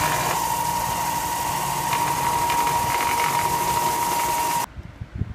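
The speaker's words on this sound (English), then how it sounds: "I'm going to be using my trusty belt sander to put the bevel on this jig" A belt sander runs loud and steady, grinding a knife bevel on a wooden jig with a continuous whining drone before it stops abruptly near the end.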